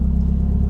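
Nissan 200SX engine running just after startup, a loud close low rumble with a fast steady pulsing throb and a faint whirring from the trigger wheels.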